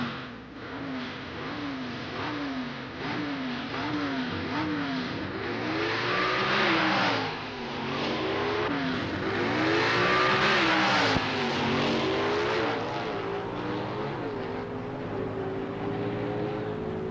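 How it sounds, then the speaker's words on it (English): A Dodge C-Gas modified eliminator drag car accelerates hard down the strip on a record-setting run, its engine climbing through repeated rising gear-change sweeps, loud and close throughout with no talk. "This run, Jim Thompson sets a new national speed record for C-Gas in the modified eliminator category."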